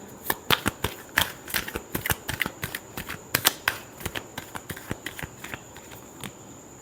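Tarot cards are shuffled by hand in a quick, uneven series of crisp flicks and snaps, close and moderately quiet, with no talking over them.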